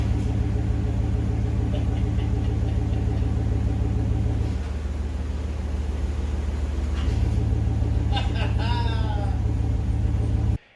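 A deep, steady car exhaust rumble with an open cutout drones throughout at close range, dipping briefly in the middle before returning, with a faint squeal near the end.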